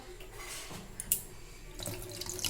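Tap water runs steadily into a sink as a child washes their hands, a soft continuous splash with a brief clink partway through.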